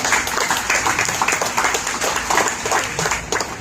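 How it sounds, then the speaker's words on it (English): A school audience at a St. Anne's Public School event claps together in steady, sustained applause that fills the hall at close range, with no speech over it. "Shall we all clap for our own selves?"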